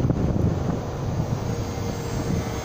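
A Haier AV14IMSEVA air conditioner in defrost mode gives off a steady, loud, broadband mechanical roar as its compressor winds down, with no voices.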